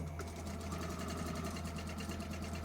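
Sewing machine stitching a quilt block along a marked line, with a steady, rapid mechanical hum and a fast even needle rhythm running throughout, close and alone.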